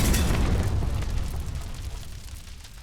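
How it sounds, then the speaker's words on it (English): A loud explosion sound effect from a surround mix, a heavy boom that hits at once and rolls off slowly in a long, deep rumbling decay with no voices. "is an explosion."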